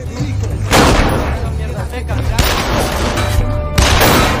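Gunfire in a film shootout between gangsters during a chase: loud bursts and booms over a dense, continuous action soundtrack, with sharp peaks near the start, middle and end.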